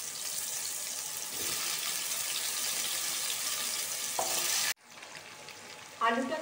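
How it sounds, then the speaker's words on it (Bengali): Diced potatoes frying in oil in a kitchen pan, a steady loud sizzle that cuts off abruptly, followed by a few quieter stirring and scraping sounds. "সেই আলুগুলোকে আমি ভেজে নিচ্ছি।"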